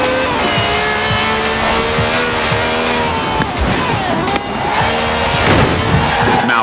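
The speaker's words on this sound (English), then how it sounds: "This has a V12 with over 750 horsepower" A V12 car with over 750 horsepower in Forza Horizon 4 revs and accelerates hard, engine pitch climbing through gear shifts, with tire squeal and skidding mixed in.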